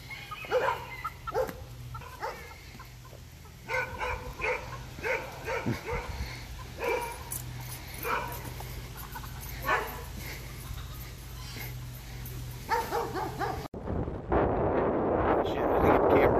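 A dog barks, yips and whimpers in repeated sharp bursts at close range while chasing a rooster outdoors, then ends in a rough, noisy rustle.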